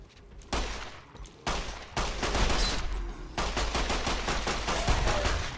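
A .45 Auto weapon fires in Fallout: New Vegas in loud, sharp bursts of gunshots, with short pauses between volleys and a rapid string of shots toward the end.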